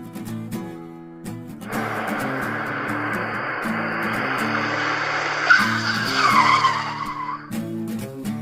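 An animated bus brakes to a stop, its tires giving off a sustained skidding squeal that lasts several seconds over a looping background music track, with no voices.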